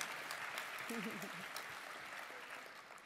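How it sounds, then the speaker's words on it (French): Audience applause at the opening plenary of a French general-practice medical conference, a steady wash of clapping from a large hall that continues for several seconds under someone speaking into a microphone. "On peut les applaudir aussi."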